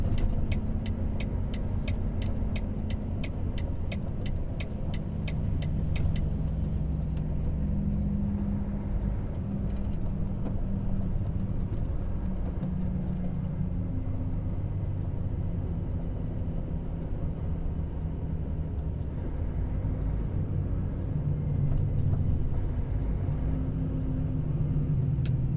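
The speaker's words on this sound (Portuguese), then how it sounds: "Foi jogado para dentro para repesar aquele caminhão que está passando lá." A heavy truck rolls past at a highway weighing station, a steady low engine rumble and tire roar holding for the whole stretch at moderate distance, with no voices over it.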